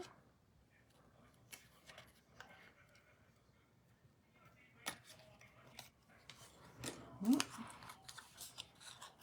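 Scissors snip at a piece of material in a quiet room, with faint, sparse metallic clicks and cuts scattered irregularly, growing a little busier toward the end.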